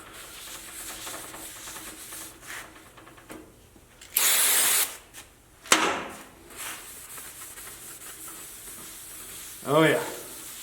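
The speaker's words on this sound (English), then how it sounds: "I'm just taking some brake cleaner, and I'm just going to go over this pretty good, just to kind of get that nasty oil off." Brake cleaner sprays from an aerosol can onto an oily Jeep TJ part in a short loud hissing burst, followed by a brief sharp spritz, against low workshop background noise.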